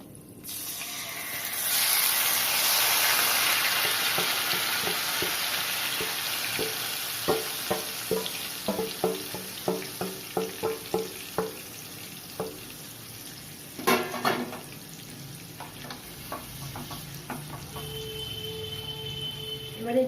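Chicken pieces drop into hot ghee with whole garam masala and mace for Mughlai chicken chaap, bursting into a loud hiss that settles into steady sizzling, followed by clattering stirring and spoon scrapes against the pan.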